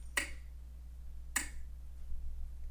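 Two sharp finger snaps about a second apart, made to sync audio recorded on a smartphone microphone, each a crisp close click over a quiet low hum.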